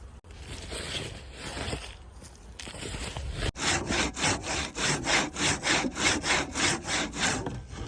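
A hand saw with bent teeth cuts wood on a farm. After a quieter start, about a dozen loud, close, rhythmic back-and-forth rasping strokes follow.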